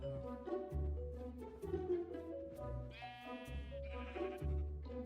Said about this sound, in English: found some cows and even some sheep